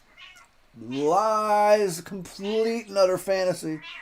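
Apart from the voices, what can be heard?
cat meowing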